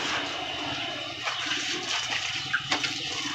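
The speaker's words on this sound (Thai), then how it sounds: "โอ้เพิ่นสิล้างถ้วย" Running water while cups and dishes are washed at home, a steady splashing flow with faint clinks now and then, continuous and fairly soft throughout.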